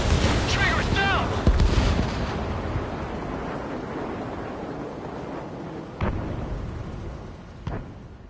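In-game missile launch and explosion: a sharp blast near the start trailing into a long fading roar, followed by two more distant thuds later on, with voices briefly audible early.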